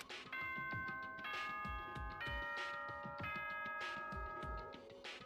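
A multi-tone electronic school announcement chime from the video game Danganronpa: Trigger Happy Havoc rings out clearly, with several bright bell-like notes sounding one after another.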